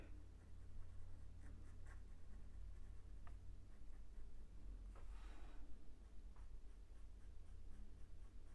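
A pencil scratches and shades across paper, while a dog portrait is being drawn, in steady close, quiet strokes with faint scraping textures and no speech.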